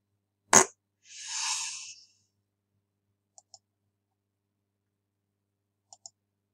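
A computer mouse gives a few crisp, quiet clicks in near silence, two quick pairs a few seconds apart, preceded by a sharp tap and a brief airy hiss.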